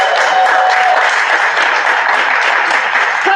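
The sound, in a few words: audience applause for a comedian coming to the stage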